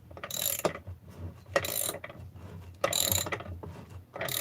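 A crankshaft is cranked down into a model engine crankcase with a series of close mechanical clicks and ratcheting turns, coming in three or four short bursts with quiet gaps between.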